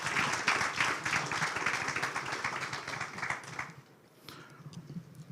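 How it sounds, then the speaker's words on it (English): Conference audience at a Liberia diaspora gathering applauds the panelists taking the stage, a moderate, somewhat distant round of clapping that tapers off after about four seconds, leaving quiet room tone. "please join me in welcoming our panelists with a round of applause"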